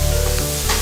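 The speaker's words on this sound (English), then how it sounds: "with a nice veg medley, a nice veg medley here that we're sauteing up" A vegetable medley with mushrooms sautes in a pan, a loud close sizzle with a steady hum underneath and a brief stirring scrape near the end.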